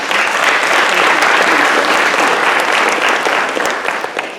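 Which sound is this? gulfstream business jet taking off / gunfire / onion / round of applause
round of applause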